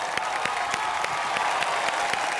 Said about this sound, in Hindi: जोरदार तालियां रश्मि देसाई के लिए।